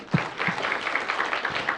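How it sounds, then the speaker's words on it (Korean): Applause from a church congregation during a Friday worship service, a steady wash of clapping with a few louder claps standing out near the start, moderately faint and heard alone. "박수 한번 주세요."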